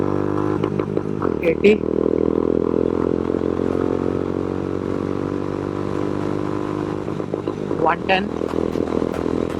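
A Honda CB350 motorcycle revs hard and climbs through its gears, the engine note rising to a loud sustained drone before pitching down at each shift, with a voice speaking over the noise.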